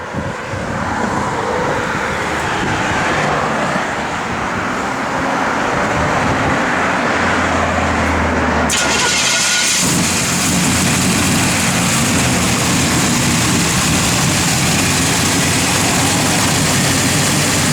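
A 1969 Chevrolet Chevelle convertible's V8 running steadily at idle, a loud close low rumble that continues throughout, with a brief thump partway through as the sound shifts, no talking.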